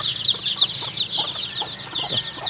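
Hens cluck and chatter in a chicken laying area, with busy, overlapping calls continuing steadily throughout at close range and no talking.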